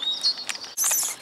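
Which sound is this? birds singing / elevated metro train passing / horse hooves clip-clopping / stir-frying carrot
birds singing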